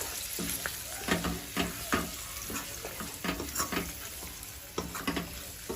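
Surti papdi beans and green peas for Kathiyawadi undhiyu are tossed and mixed in a hot pan, with rhythmic scraping strokes over a constant close, bright sizzle of frying.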